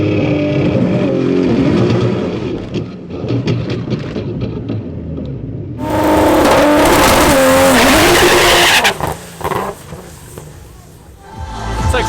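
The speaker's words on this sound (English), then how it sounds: "try a different burnout style and turn up the power a little bit more" A Barra-swapped Ford Mustang GT350 making over 1000 wheel horsepower does a burnout at the drag strip, the engine roaring loud and close, then jumping into a harsher screaming surge with tire squeal before easing off.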